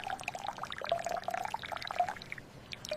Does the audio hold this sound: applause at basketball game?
no